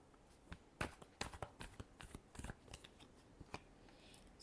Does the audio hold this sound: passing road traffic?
no